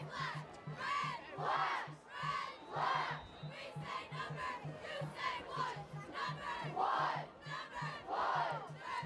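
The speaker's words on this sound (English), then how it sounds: "We hear some cheering from the fan section" High school football fans in the stands at a Durfee vs. Somerset-Berkley game shout and chant in rhythmic bursts, a crowd cheer repeated in waves with a steady pulsing beat beneath, heard from a distance.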